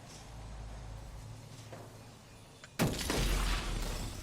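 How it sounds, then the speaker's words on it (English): Window glass smashes in the video game Remember Me: a sudden loud shattering crash breaks over a low rumbling background and trails off into scattered tinkling debris. "Somebody smashing in through your window."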